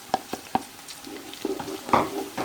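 Garlic tipped into a pan of frying light-brown onions for a Sindhi biryani, with a few sharp clinks of a utensil against the pan and a soft sizzle underneath, close and fairly quiet.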